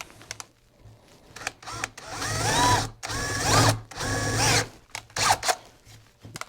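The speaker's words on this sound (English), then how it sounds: "Put your drill in there, go slow." Power drill boring a countersunk hole into a wooden board, with several loud bursts of whining motor that rise in pitch and cut off between pulses, close to the microphone with no talking.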